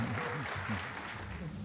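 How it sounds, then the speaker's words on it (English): Lecture audience applauding a justice on his 85th birthday, a soft, distant patter of clapping under a speaking voice. "one more time you have to clap"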